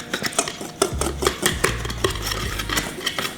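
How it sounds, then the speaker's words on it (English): Whisk clattering against a bowl while waffle batter ingredients are mixed together, quick rhythmic scraping and tapping strokes, close and steady, with no talk. "You can just whisk it together right now"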